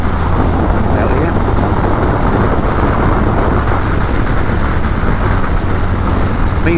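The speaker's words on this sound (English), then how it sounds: "Listen to this engine, absolutely lovely. Smooth as you like. I love four-cylinder bikes." Honda VFR1200F sports tourer's four-cylinder engine runs with a steady, smooth, loud drone that holds an even level throughout, with no talking over it.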